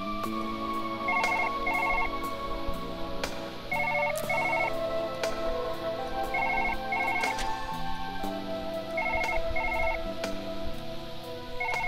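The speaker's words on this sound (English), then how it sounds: "Phone, shut up! You're not even plugged in!" An unplugged telephone in the video game Surgeon Simulator rings on and off in repeated double trills, over a busy layer of game music and tones.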